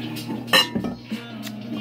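A ceramic bowl pulled from a stack of dishes gives a single bright clink, followed by a couple of softer knocks, close and brief in a quiet kitchen.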